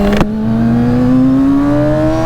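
A Kawasaki Ninja ZX-6R motorcycle engine pulls steadily under acceleration on a demo ride, its rising tone loud and close after a brief clatter at the start, with no talk.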